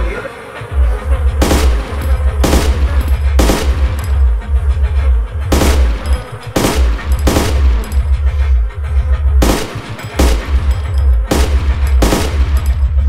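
An MK48 machine gun fires in the video game DayZ Epoch during a base raid, with loud, close, repeated bursts of rapid shots broken by short pauses.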